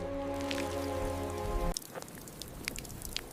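Steady rain falling in African elephant country, a dense patter of drops on surfaces, continuous and fairly close, with a low droning hum in the first half that cuts out abruptly partway through, leaving the rain alone.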